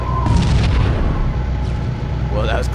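Tank cannon fire and explosion in the Halo video game, a loud booming blast with rumbling low-end that decays over nearly three seconds, followed by faint game effects.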